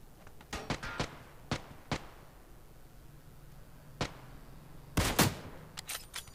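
Gunfire in the mobile battle royale New State, including a K98 sniper rifle: a quick cluster of sharp shots, a few isolated cracks, then a louder double burst near the end, heard alone over quiet background.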